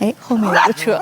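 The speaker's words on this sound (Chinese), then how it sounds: "那只狗好凶啊！" A dog barks loudly and aggressively close by in France, its sharp yips blending with a person talking over it in one brief burst.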